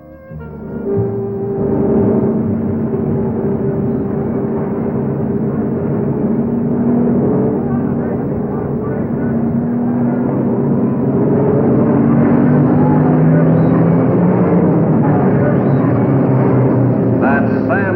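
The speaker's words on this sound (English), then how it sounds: "The 200-lap feature had already started, and Moxie was driving car 42" Race cars roar around Lakeside Speedway during a 200-lap feature, a loud, continuous engine drone with shifting pitches that holds steady for the whole stretch.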